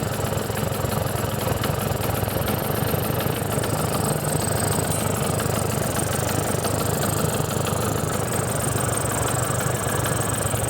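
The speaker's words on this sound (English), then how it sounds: "Just turning up the idle speed so it idles." A 1978 Vespa P200E scooter engine idles steadily with a constant, even mechanical drone that stays at the same level throughout, with no voices.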